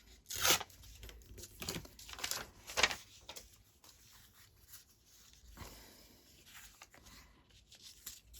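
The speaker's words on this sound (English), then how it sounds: "Tear that one just in case." Paper being torn by hand for a book-page craft masterboard, several quick ripping strokes early on, close and crisp, then quieter rustling and handling.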